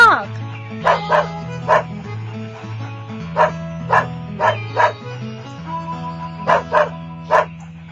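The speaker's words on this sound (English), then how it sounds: "The dog." A dog barks in a rapid, irregular series of sharp woofs, about a dozen in all, over a steady musical backing in a children's farm-animals story.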